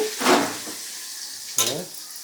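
Chopped onions hit butter and oil in a pan with a soft hiss. The sizzle swells, eases off, then flares again with a second clattering addition and settles into a quieter frying hiss.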